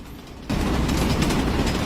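A manifest freight train rolls past, a sudden rise into a loud, continuous rumble with rhythmic clattering of wheels and cars that stays heavy and close after a quieter opening.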